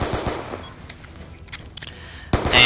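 Bursts of rapid gunfire from a turbo-controller-fired TAC 25-equipped machine pistol in Black Ops II: a short flurry of sharp shots at the start, scattered cracks in the middle, then a loud sustained burst at the end.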